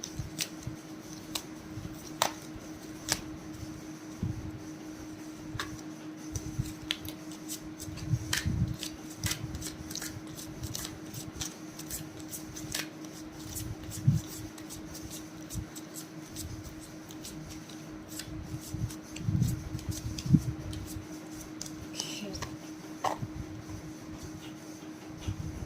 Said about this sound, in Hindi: तो अब पाइल 1 के कार्ड्स शफल कर लेती हूँ।